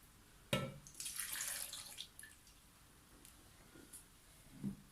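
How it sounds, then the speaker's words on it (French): Milk poured into a blender jar already holding dates while making a smoothie, a splashy liquid stream of about a second following a sharp knock, then quieter handling clunks. "On va verser le lait."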